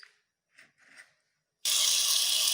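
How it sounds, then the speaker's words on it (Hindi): Water is poured into a pot of mashed daal, coming in as a steady loud rushing stream after a few faint kitchen clinks and rustles. "और उसके बाद हम इसमें पानी ऐड करेंगे।"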